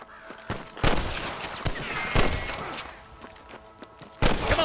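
Gunfire at rustlers in Red Dead Redemption: sharp, separate shots ring out irregularly at close range, some louder blasts with echoing tails, and short gaps fill with faint background sound.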